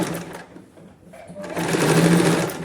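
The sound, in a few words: sewing machine stitching a blouse sleeve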